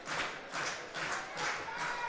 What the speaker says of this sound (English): Fans here at Labatt Park clapping along here, trying to urge on Springer.